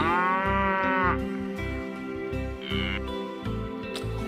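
A buffalo moos several times in a row, loud and close, each call a long low drawn-out bellow with short pauses between, heard alone without talk.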